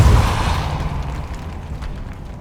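A Depulso force spell cast in Hogwarts Legacy on PS5 lands as a single deep, rumbling boom that hits hard at the start and then decays slowly into a low, steady roar.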